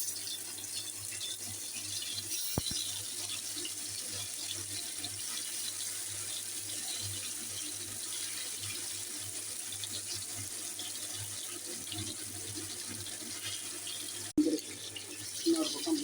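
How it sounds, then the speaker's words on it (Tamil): Koduva fish fries in hot oil, a soft steady bubbling hiss that stays faint, with a sharp clatter near the end; no one speaks. "கொடுவா மீன் போடுறேன். எண்ணெய் இப்படி நல்லா காய வச்சு போடணும்."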